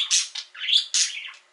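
A pet bird gives a few shrill, raspy squawks in quick succession, close and loud with no talking over them.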